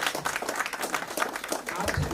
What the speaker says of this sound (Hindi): तालियों में कोई कमी नहीं होनी चाहिए।